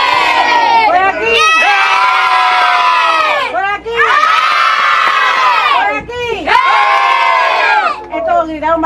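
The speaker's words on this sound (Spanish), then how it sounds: "Gritaron bastante por aquí." A crowd of children shouts loudly and in unison at a birthday party in Cuba, three long sustained bursts of high yelling separated by short dips, close and dominant.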